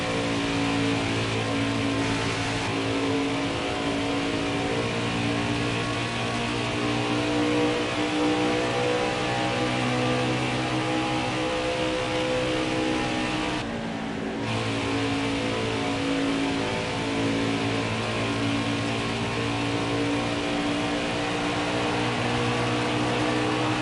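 Racing trucks in a Craftsman Truck Series race at Kansas Speedway drone steadily past, a loud continuous blend of engines with no break and no voices.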